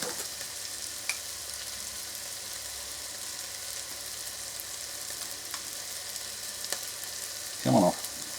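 Garlic sizzles in ghee in a pan, a faint, steady frying hiss running throughout with a couple of small clicks and a brief louder clatter near the end.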